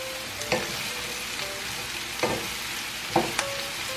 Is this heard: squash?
yes